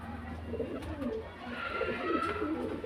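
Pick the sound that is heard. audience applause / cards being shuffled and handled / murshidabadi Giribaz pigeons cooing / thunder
murshidabadi Giribaz pigeons cooing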